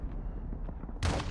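A video game mortar round lands with a dull, deep boom that swells suddenly after a low rumbling lead-in, loud and close at the end of the moment.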